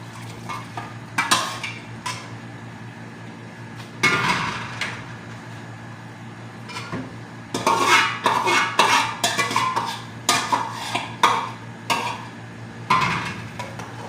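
Meat gets stirred into masala in a metal karahi pot. A utensil scrapes and clanks against the pan in irregular bursts over a low, steady sizzling hum.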